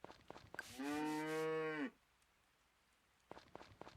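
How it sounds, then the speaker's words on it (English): A cow in a farming video game lets out one long, loud, close moo lasting about a second, with faint clattering just before and after and quiet in between. "brush all the cows and shit"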